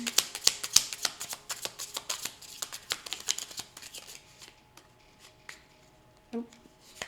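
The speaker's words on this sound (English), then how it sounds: "got some cards flipping in here" Playing cards being shuffled and flipped, a rapid run of crisp riffling snaps close up, slowing to a few sparse flicks and taps.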